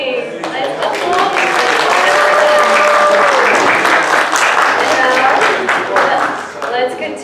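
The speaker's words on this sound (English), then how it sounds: "Let's applaud." A gala show audience breaks into sustained applause, dense and loud across the whole stretch, with a few cheers and voices mixed into the clapping.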